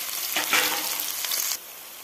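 Chopped onions hit hot oil in a pan, a loud broadband sizzle that flares in the first second and persists for about a second and a half before dropping abruptly to a quieter background hiss, with no talking.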